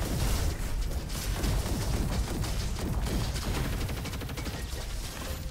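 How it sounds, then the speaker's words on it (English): Comet cannon fire in the Roboquest shooter, a dense, continuous barrage of rapid blasts and crackling impacts that stays loud and steady throughout with no voices. "Let's use the comet cannon for a bit."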